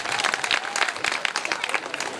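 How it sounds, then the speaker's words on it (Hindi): Audience clapping at a devotional jagran, a short burst of dense, lively applause from a crowd, loud and close. "अगर आपको भी अच्छी लग रही है तो हमें जरूर अपनी तालियों से बताइए।"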